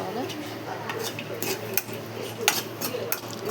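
A spoon stirs a milk mixture in a metal pot, with clinks and scrapes against the pot over a steady background hum, the stirring carrying on continuously throughout.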